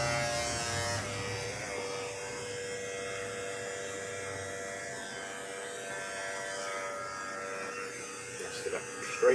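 A steady electric hair clipper buzzes and hums continuously at close range, with faint room noise and occasional soft handling sounds near the end.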